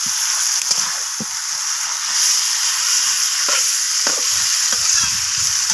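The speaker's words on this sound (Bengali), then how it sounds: "তো চিকেনটাকে আমি পেঁয়াজ টমেটো ক্যাপসিকামের সাথে এইভাবে নাড়াচাড়া করে কষাতে থাকবো।" Marinated chicken sizzles loudly in a pan with onion, tomato and capsicum, a dense, constant frying hiss with occasional soft stirring scrapes and taps underneath; no one speaks.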